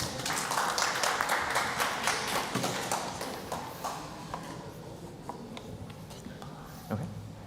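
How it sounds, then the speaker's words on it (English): Applause from a conference audience at an ad-filtering developer summit, a steady patter of many hands clapping that gradually thins and fades over several seconds. "a big round of applause,"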